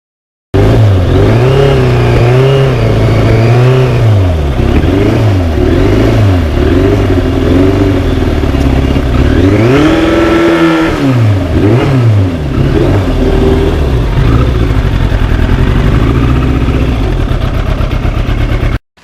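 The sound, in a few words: 1991 Yamaha FZR 1000 motorcycle revving with twin exhaust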